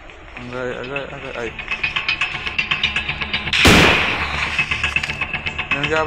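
Rapid gunfire in an online shooter video game, repeated sharp shots in a steady rhythm with one louder blast, heard under a player's continuous talking.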